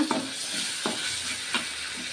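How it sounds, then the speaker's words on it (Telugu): Boiled pasta fries lightly with chilli sauce in a pan, a continuous soft sizzle with a few distinct scraping stirs of a spoon spaced through it. "ఇప్పుడు చిల్లీ చా చిల్లీ సాస్ వేయాలి దీన్ని కూడా వేయించుకోవాలి లైట్గా"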